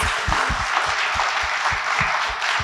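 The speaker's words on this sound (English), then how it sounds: "round of applause" Audience applause after a talk at a Q&A event with sports champions, steady clapping from a crowd with some deeper individual claps standing out close by.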